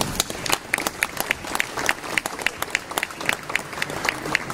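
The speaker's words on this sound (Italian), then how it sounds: "questo grandissimo coro che merita ancora un forte applauso" Concert audience applauding a large choir at a celebratory evening in Lènola, a steady mass of hand claps held at an even level from start to finish with no voices rising above it.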